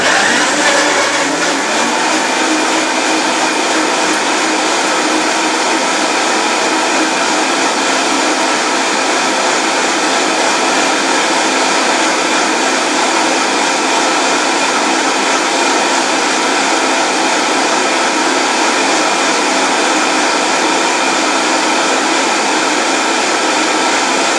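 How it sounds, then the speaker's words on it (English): Two Greens FGR-8800 commercial vacuum blenders run together on high, a loud, constant whining roar that starts abruptly and holds steady for the whole stretch with no one speaking. "we ran both blenders for 30 seconds"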